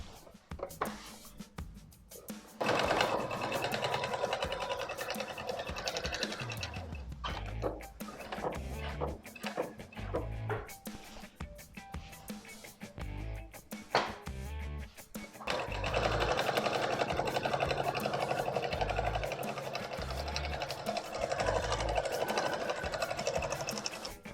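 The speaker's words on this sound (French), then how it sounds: "je vais pouvoir coudre les pinces" A sewing machine stitching darts on a slit skirt, two loud runs of fast mechanical whirring with quieter handling and pauses between them, heard close up.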